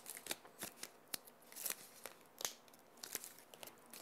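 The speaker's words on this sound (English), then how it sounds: "And I've got a little bit of mounting foam on here to give it dimension. So we'll peel this off." Mounting foam has its backing peeled away in a run of soft, quick crinkly tearing and rustling bursts, faint and close, with no voices.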